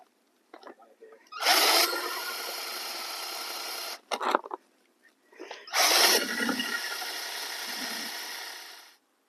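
Power drill boring holes in a Lifan KPX motorcycle air box, heard as two sustained loud whining bursts of about two and three seconds, separated by a brief pause with a few short clicks and handling knocks.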